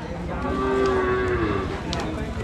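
Cattle moo at a livestock stockyard in one long, drawn-out low call over a steady background din of the yard, with no talking.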